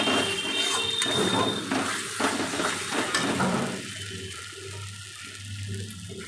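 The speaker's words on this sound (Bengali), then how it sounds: "মশলাটাকে ভালো করে কষিয়ে নেব।" Kashmiri red chilli powder masala frying in a pan for a Bengali boal fish curry, a steady close sizzle with stirring scrapes that drop to a quieter, softer sizzle partway through.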